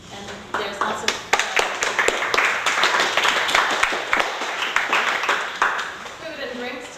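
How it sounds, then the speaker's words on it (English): A small gathering claps after a performance art discussion, a short burst of close, uneven hand claps spread across several people, with scattered louder slaps over a room murmur. "since I just got a little round of applause there"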